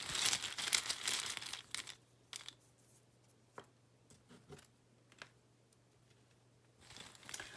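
Tarot cards being mixed by hand, with a burst of close riffling and rustling at the start, then scattered soft slides and taps, and another rustle at the end.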